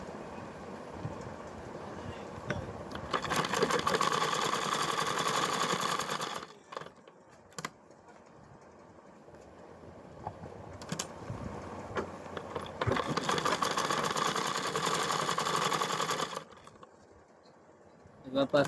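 A sewing machine stitches along the top of a garment in two separate bursts of close, rapid mechanical whirring, with quieter stretches of handling and faint background noise between them.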